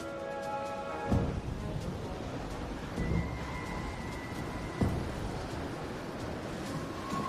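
A storm in A Fisherman's Tale brings a constant wash of rain, broken by three short, dull thunder cracks spaced a couple of seconds apart, with faint tonal music underneath.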